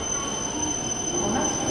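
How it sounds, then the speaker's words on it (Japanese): A JR East E7 series Shinkansen train rumbles and hisses steadily nearby as it pulls into the platform, with a faint high squeal of wheels running along the rails. "もう多分列車ね、あ、入線してますね。"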